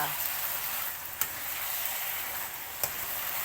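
Bamboo shoots with pork, basil and coconut milk sizzle steadily in a pan, a close, continuous frying hiss broken by two sharp clinks of a utensil stirring against the pan.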